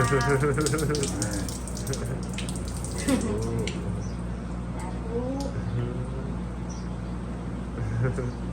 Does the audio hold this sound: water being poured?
yes